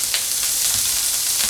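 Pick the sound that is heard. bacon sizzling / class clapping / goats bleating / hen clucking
bacon sizzling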